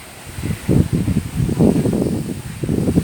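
Wind gusts buffet the microphone in low, rumbling bursts, rising and falling unevenly over a faint background hiss.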